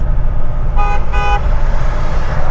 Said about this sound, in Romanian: te-a claxonat ăsta